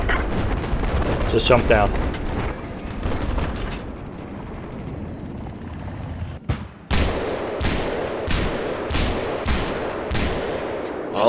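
Battlefield 4 multiplayer Conquest gunfire on the Zavod 311 map: a rumbling firefight under a player's talk, then a sharp blast and a rapid, loud run of evenly spaced rifle shots close by.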